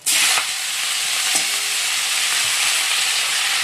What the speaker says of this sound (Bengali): তেলটাও গরম হয়ে গেছে। এবার শাকগুলো দিয়ে দেবো